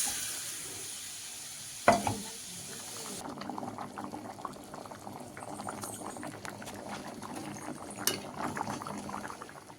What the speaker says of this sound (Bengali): ডিম আলুর ঝোলটা ভালোভাবে ফুটে উঠেছে